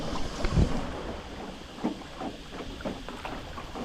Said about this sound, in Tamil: பச்சை பசேன்னு புல்லுக்கு நடுவில் போட்டிங் போயிட்டுருக்கோம்